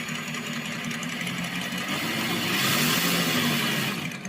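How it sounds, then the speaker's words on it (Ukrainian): A steady, buzzing motor hum from an RC model sound module (Sense Innovation Dual) runs continuously, swelling slightly louder near the end, with a mechanical, engine-like drone and no voices. "натискаєте і у вас йде імітація роботи мотору."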